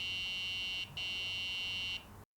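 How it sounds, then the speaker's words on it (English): Two long steady electronic beeps from a Phantom chessboard device signaling check, each tone held about a second with a short break between, close and clear with no talking. "When either side is in check, the device will emit 2 long beeps."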